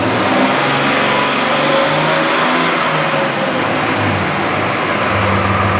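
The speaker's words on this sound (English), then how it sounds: "this is the difference between a turbo diesel with a fuel converter. You hear it running." A turbo diesel engine fitted with a fuel converter runs steadily and loudly inside a garage, with a rough, rumbling drone and slight swells like gentle revving.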